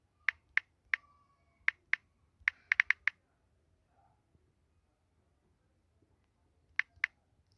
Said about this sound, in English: here I will write my email